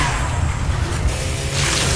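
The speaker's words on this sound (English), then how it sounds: "Let's launch the first firework to do the race." A firework launches in Fallout 76 with a broad swishing whoosh over a steady low rumble, the rush swelling toward the end of a short, fairly loud burst. No one speaks.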